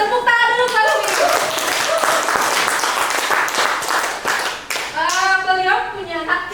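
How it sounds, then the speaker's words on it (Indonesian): An audience claps for a teacher being introduced at an English learning session, loud, dense clapping filling the middle, with voices talking at the start and again as it fades. "Tepuk tangan dulu kalau itu."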